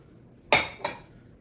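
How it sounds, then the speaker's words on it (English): Two bright clinks in quick succession as a bowl of powdered sugar is shaken and tapped, a close, clear ceramic knock followed by a softer second one in a quiet kitchen. "Just gotta shake it a little bit to get it out of this bowl"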